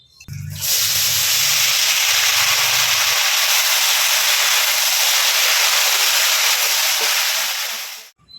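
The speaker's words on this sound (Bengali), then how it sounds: "আলু কেটে নিয়েছি আলুগুলো ভেজে নিই" Potatoes fry in hot oil in a home kitchen, a loud, steady broadband hiss that starts abruptly and runs almost unbroken for about eight seconds before cutting off.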